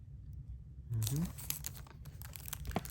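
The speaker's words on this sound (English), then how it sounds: "Let me unwrap this quick." Plastic packaging being unwrapped from a boxed sci-fi documentary release, with a burst of crinkling and tearing after a quiet start, then scattered crackles, all nearby.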